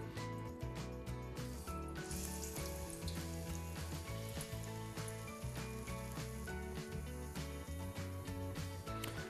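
Waffle-cut potato slices deep-fry in a bath of hot oil, a dense continuous sizzle and crackle that stays steady and fairly close throughout.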